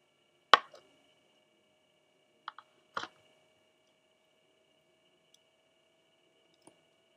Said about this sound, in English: you can take your razor and cut that off if you would like to